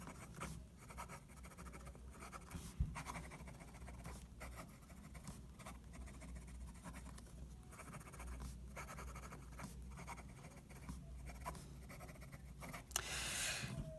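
Jinhao 911 fountain pen nib scratching quickly across paper in a steady run of soft strokes, close and quiet, with a few pauses between words.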